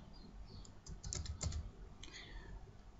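Keys clatter in a quick, light cluster on a computer keyboard, soft and close, with a few more isolated taps afterward in a quiet room.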